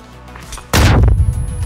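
A single loud gunshot in a video game bursts in suddenly after quiet and then rings out into a short decaying tail, with no talk over it.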